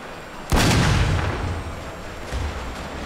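Artillery cannons fire in Total War: Shogun 2's Fall of the Samurai battle, one loud booming blast followed by a long rolling rumble and a fainter distant shot.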